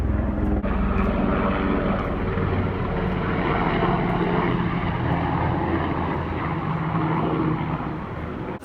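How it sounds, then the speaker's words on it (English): A helicopter landing nearby sends a continuous loud engine and rotor roar, steady and broadband, that stays constant before a slight drop at the very end. "Apparently we're having a helicopter landing over here."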